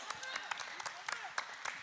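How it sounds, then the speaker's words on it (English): Scattered claps ring out at a youth ministry gathering, a few sharp hand claps spaced irregularly over a steady murmur of voices and background talk, fairly close but not loud. "Clap that one up."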